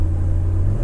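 A BMW E30 engine with a distributor-related idle issue, heard as a steady low rumble of a running car, close and continuous for under a second with no sharp rev change.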